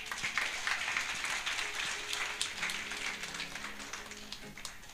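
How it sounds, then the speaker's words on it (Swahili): A congregation applauding steadily for several seconds, a dense wash of clapping with some voices mixed in. "Pigeni Bwana makofi mazuri"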